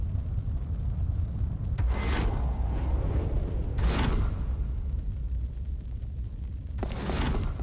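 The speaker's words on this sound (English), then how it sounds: "Ah, a big bomb, of course." Deep, rumbling blasts from a large bomb in the game Ultros, with three broad bursts at a steady interval over a continuous low roar.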